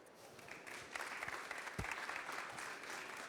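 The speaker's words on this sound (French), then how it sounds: "donc déjà on peut vous applaudir." A room of listeners claps for a presenter at the close of a talk, a short moderate burst of applause with a few sharp individual claps standing out, then tapering off.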